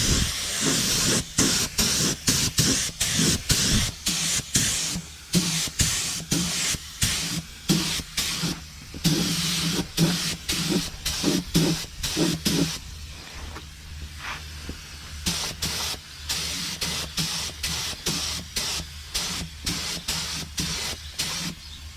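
Loud hissing bursts of a paint spray gun at 25 PSI painting a car's rocker panels, pulsing in rapid repeated passes, close up and continuous with brief gaps, no voices.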